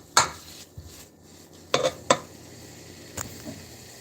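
A utensil stirs food in a pan, producing a few sharp clanks and scrapes against the metal at irregular intervals, spaced apart over quiet room tone with no talking.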